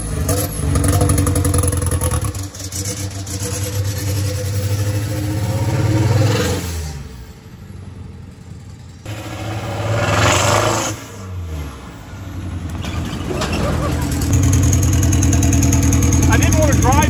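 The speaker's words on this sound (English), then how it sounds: "It was so weird to drive a right-hand drive diesel truck like this" A right-hand drive turbo diesel truck in Thailand rumbles while driving, the engine revving and easing off in surges with brief quieter dips, close and loud, with people talking over it.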